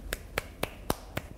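Five sharp hand claps spaced roughly a quarter second apart, fairly close and distinct, with a fainter sixth tap at the end, made by a rugby league and cricket fan.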